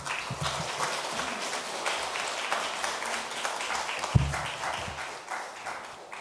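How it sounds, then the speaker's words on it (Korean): A church congregation applauds to welcome a visiting pastor during a Sunday afternoon service: soft, dense, continuous clapping heard from a distance at low volume, with a single louder knock partway through. "따뜻한 환영의 박수로 맞이해 주시면 감사하겠습니다"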